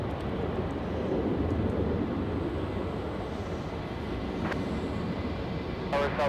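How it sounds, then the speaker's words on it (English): A United Airlines Airbus A320 airliner at Los Angeles International Airport gives off a steady, broad jet-engine roar from some distance that holds evenly throughout. "We have the United Airlines A320."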